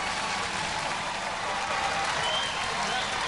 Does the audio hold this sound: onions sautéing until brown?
no